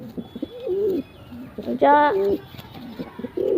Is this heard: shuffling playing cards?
no